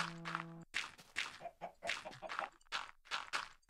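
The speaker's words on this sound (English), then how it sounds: "And this'll make the chickens happy in their relatively short lifespans." Chickens clucking in a farming video game, a run of short, close clucks and squawks in quick bursts, opening with a brief sustained tone, with no talk over them.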